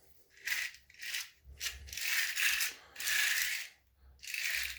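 A handheld wire and tube straightener is tightened in a series of close ratcheting, grinding bursts, about six pulses with short pauses between.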